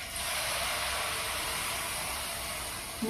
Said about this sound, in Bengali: এবারে তেলটা গরম হলে পিঠা ভাজব।